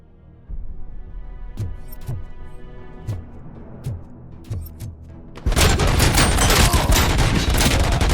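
Gunfire in the RoboCop: Rogue City video game: spaced single heavy shots thud out about once a second, then a loud continuous burst of rapid fire takes over and holds to the end.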